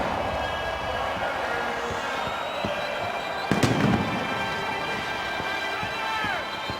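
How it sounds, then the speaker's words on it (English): Fireworks go off over a stadium after an NFL game between the 49ers and Chargers, heard as a distant crackling wash under crowd noise, with one sharper bang midway. "the fireworks are off."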